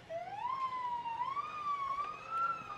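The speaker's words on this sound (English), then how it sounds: "Once you hear those sirens" Police car sirens lead off a Fourth of July parade through an old town, one wailing siren rising and falling steadily and close by, alone with no talk.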